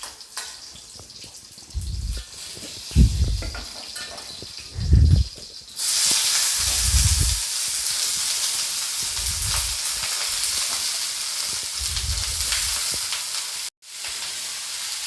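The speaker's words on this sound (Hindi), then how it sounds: "कटी हुई सब्ज़ी को मैं डालूँगी। आलू और गोभी को मैं डाल दूँगी।" Chopped potato and cauliflower tipped into a hot frying pan burst into loud sizzling that holds as a steady frying hiss, with a few soft low knocks from stirring before and during.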